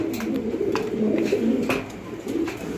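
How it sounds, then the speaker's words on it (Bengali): Maltese fancy pigeons on a breeding farm cooing in low, rolling murmurs under a steady background hiss, with a few sharp clicks and no voices. "এখানে চমৎকার আরো এক জোড়া কবুতর এটাও মাল্টেস কবুতর"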